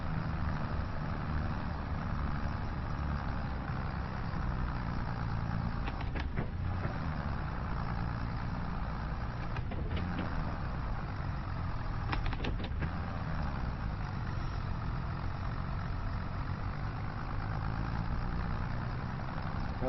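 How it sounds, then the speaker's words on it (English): Tractor engine in Farming Simulator 25 drones at a low, steady pitch while straining up a hill, a continuous loud rumble with a few faint clicks over it and no talk. "The tractor doesn't like this hill"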